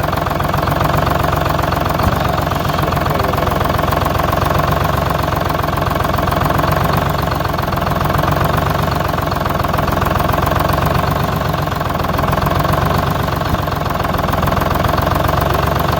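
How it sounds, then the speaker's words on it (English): An old engine idles with a slight misfire, a steady, dense and rough mechanical rumble with uneven knocking running through it, loud and constant for the whole stretch, with no talking. "we're getting a little bit of a misfire"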